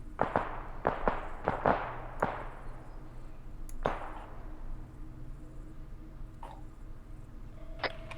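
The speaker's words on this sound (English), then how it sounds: "Don't worry, it's just firecrackers." Firecrackers going off outdoors during a team tactical operation: a quick string of sharp cracks in the first two seconds, then scattered single pops over a steady low background rumble.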